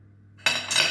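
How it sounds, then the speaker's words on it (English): Spoon stirring icing sugar and egg white in a bowl, a sudden scraping clink after a brief silence, close and fairly loud, continuing as a gritty rasp. "And then we mix it with our spoon."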